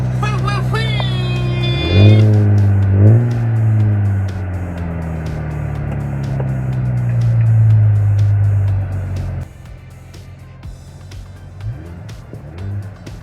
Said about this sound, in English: Do you hear that sweet stock V6?